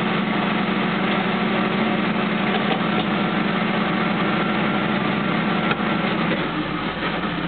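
A 1979 Hurst Olds V8 idles steadily just after a cold start, a close, continuous low rumble that holds even with no voices over it.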